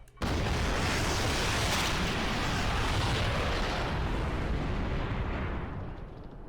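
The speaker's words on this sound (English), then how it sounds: "That was definitely a nuclear bomb" A nuclear bomb dropped from a drone in Garry's Mod goes off as one huge, roaring blast that holds loud and dense for several seconds, then slowly fades toward the end, with no talking over it.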